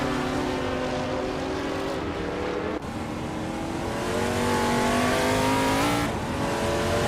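A 1971 Nissan Skyline 2000 GTR race car in a racing video game, its engine a loud, steady drone with rising and falling harmonics as it revs through gears, with a brief dip near the middle and no voices.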